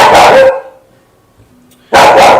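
A dog fiercely guarding its home barks twice, loud and close, with a near-silent gap between the two sharp barks.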